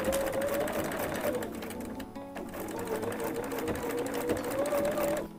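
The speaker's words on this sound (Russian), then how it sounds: "К концам молнии я сейчас пришью полоски ткани на 1 сантиметр от края" A sewing machine stitches fabric strips onto the ends of a zipper for a clutch bag, humming in a steady close whir with a brief slowdown midway, while someone talks over it.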